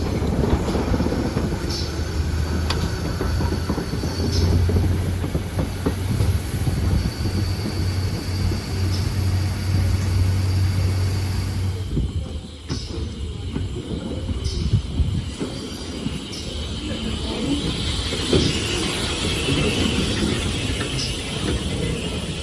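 Preserved railway train engine rumbles steadily nearby with a continuous rolling, clanking drone of wheels and carriages, fairly loud throughout and shifting slightly midway as it passes.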